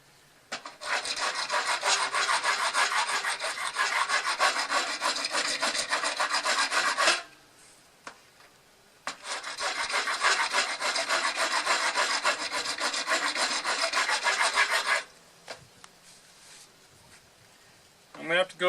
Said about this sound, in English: I've got this rasp here. It's working really well for me.